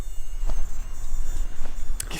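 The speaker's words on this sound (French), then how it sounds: "C'est des moustiques. Chut. Il y en a partout." Mosquitoes whine close by in a thin, steady high-pitched buzz, joined by a low hum and a few faint clicks and rustles.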